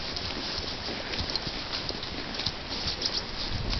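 An endurance horse walks along a wooded trail toward a clearcut, its hooves making a steady, close clip-clop over a broad bed of outdoor noise, with no voices.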